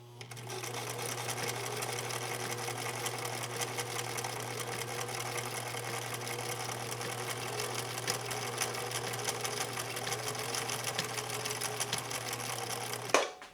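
Sewing machine stitching fabric on a fairly complex stitch, a steady continuous mechanical whir with a constant hum running unbroken for about thirteen seconds, ending with a brief louder clunk.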